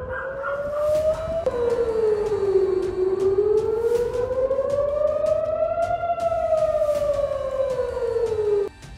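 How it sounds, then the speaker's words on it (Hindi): A loud civil defense air raid siren in central Israel wails, rising and falling in long sweeping tones, steady and continuous throughout, with a faint howling undertone. "सेंट्रल इजराइल में कई बार सायरन अलर्ट सुनाई दिए।"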